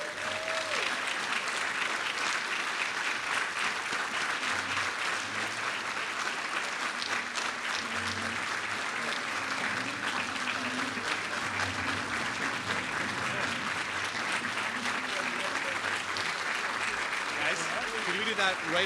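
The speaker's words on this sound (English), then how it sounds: "Now you can cheer." Sustained audience applause with cheering fills a hall during a hall of fame induction, steady and dense throughout with some voices mixed in.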